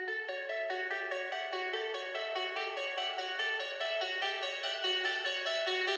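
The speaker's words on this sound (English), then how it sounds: "we have this break arp here" A bright synth arpeggio from the break of a progressive psytrance track, rapid evenly pulsing notes cycling in a tight repeating pattern, sustained and steady for the whole stretch with no voices.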